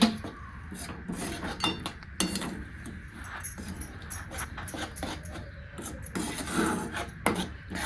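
Grated coconut being stirred into bubbling sugar syrup in a pan over low heat, close irregular scraping and spoon clinks against the metal, fairly quiet, with no talking.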